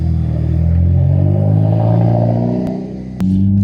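A Hyundai i30N with a 2.0 turbo petrol engine of about 300 horsepower pulls away with a loud, close engine note that rises steadily, dips briefly at a gear change, then resumes.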